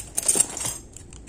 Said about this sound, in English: I'll get my pair of scissors and cut at this point